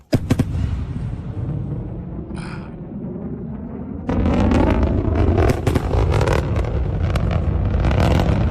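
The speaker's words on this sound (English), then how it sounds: "these are the rockets landing" Rockets landing, heard as a dense roar of rumbling blasts and crackling impacts that jumps louder about halfway through, with a brief whistling tone early on and no speech.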